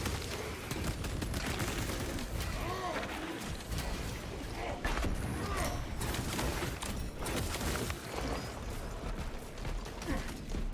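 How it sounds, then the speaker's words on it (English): A frag grenade blast and rapid gunfire in Space Marine 2, with dense, continuous battle noise of bursts, explosions and mechanical clatter filling the whole stretch at a steady loud level. "Throwing frag grenade."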